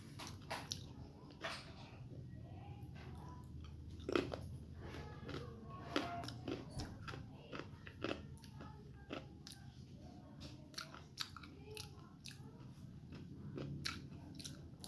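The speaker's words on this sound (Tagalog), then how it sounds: "Tikman natin ang bawang." Someone chews raw garlic close to the microphone, giving quiet, irregular crunching and wet mouth sounds that repeat at an uneven pace over a faint background.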